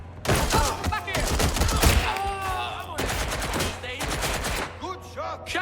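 Rapid automatic gunfire in the Watch Dogs: Legion video game, loud dense bursts filling the whole stretch, with game voices shouting over the shooting.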